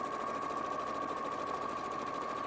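Sewing machine steadily stitching long fabric strips together, a continuous even mechanical whir with a fast needle rhythm throughout, close and moderately loud, with no talking.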